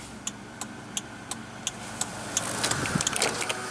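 Hazard lights of a 2000 Toyota 4Runner Limited with a 3.4 L V6 tick in a steady, even rhythm, about three clicks per second, quiet and close inside the cabin over a low background hum.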